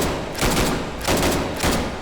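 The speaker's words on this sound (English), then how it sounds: "It's a Shorty M1918 Browning automatic rifle. Beastly. Let's take some shots." A Shorty M1918 Browning automatic rifle fires in the H3VR VR shooter as three loud, rapid full-auto bursts, each about a quarter second long, separated by short pauses.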